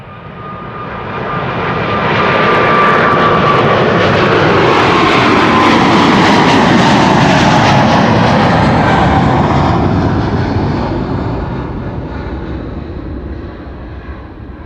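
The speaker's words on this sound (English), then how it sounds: "also leaving via this runway, a big behemoth, KLM Flight 743 to Lima in Peru." A KLM jet airliner taking off at Amsterdam Schiphol, a loud roar that swells and holds for several seconds before fading slightly as it climbs away, with no speech.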